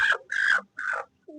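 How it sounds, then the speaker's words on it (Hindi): Newly hatched chicks on a farm with goats give three short, clear peeping calls close by, followed by a brief higher chirp. "ये 3 चूजे, ये देखो प्यारे प्यारे चूजे।"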